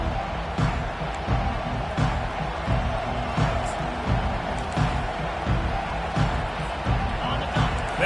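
A large crowd at a Temple vs Arkansas college football game keeps up a steady roar with rhythmic swells, under a commentator's play-by-play.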